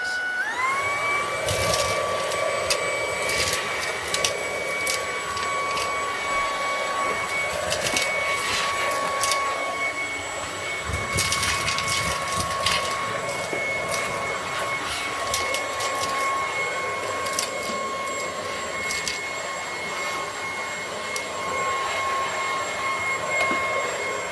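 Tineco cordless vacuum cleaner switched to full power, a steady high-pitched motor whine with constant airflow hiss, close and loud, with brief clattering pickup noises throughout.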